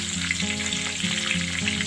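Potato and papaya pieces, seasoned with salt and turmeric, fry over a medium flame in a pan, giving a steady, close sizzle that runs without pause, with a faint low hum underneath.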